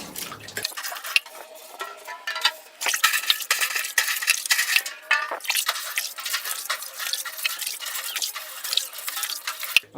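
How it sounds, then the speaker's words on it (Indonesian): Oil poured over a mesh screen during manual t-shirt screen printing, with irregular close drips, splashes and liquid trickling that grow busier after a quiet start. "di sini kita lanjutin untuk penyiraman, dan usahain minyaknya sampai habis ya teman-teman"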